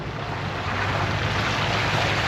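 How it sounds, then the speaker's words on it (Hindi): Water pours through a beaver dam in Ontario woodland, a loud, continuous, close rushing roar with some wind buffeting and no voices. "ये देखें ज़रा, ये यहाँ से पानी आ रहा है"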